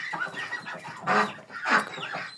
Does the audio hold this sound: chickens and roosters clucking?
yes